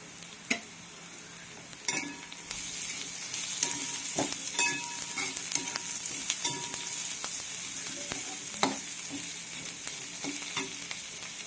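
Green chilies sizzle and fry in a pan of hot oil for a colocasia stem curry, a steady close crackle with occasional sharper pops and clinks from stirring, no voices.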